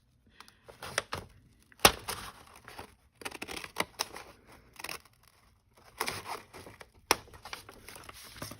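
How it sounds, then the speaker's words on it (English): Scissors cut through paper for a journal belly band in several separate bursts of snipping and crinkling, with short pauses between cuts, close and fairly quiet. "I can cut that with my scissors."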